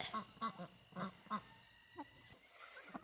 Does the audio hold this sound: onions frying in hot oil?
no